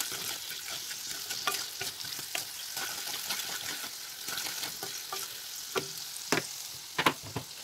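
Spice mix and sugar fry in a pan as the sugar melts, with a faint, continuous sizzle and scattered crackles and stirring scrapes, and no talking.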